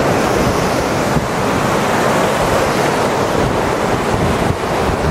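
Water rushing through the sluice gate at Caban Coch Dam in the Elan Valley, a loud, steady broadband roar with wind buffeting the microphone, continuous and close throughout.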